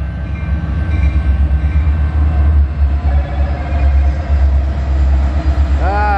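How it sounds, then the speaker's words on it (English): A CN local freight train led by an SD70I locomotive rumbles steadily westbound past at close range in Battle Creek, Michigan, its heavy low roar constant throughout, with a brief squeal of wheels near the end. "Local freight train."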